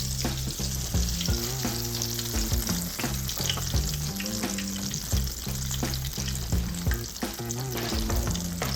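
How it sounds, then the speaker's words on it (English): Apple hand pies frying in oil in a pan on a stove, giving a dense, continuous, loud sizzle close by, with occasional stirring or handling noises and no speech. "you want to fry these until they're golden brown on each side"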